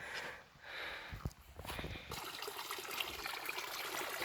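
Irrigation water trickling and splashing steadily into a planted field of Guinea grass, broadband and close, with a brief thump early on and no talk.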